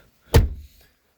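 A single solid thunk as the door of a 2007 Lincoln Town Car Signature Limited shuts, close and fairly loud, with a short rattle trailing off afterward.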